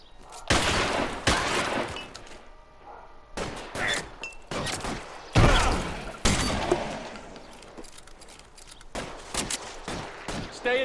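Gunfire in an L.A. Noire shootout, with sharp, loud shots and bursts spaced irregularly, some in quick clusters, against a quieter background between volleys.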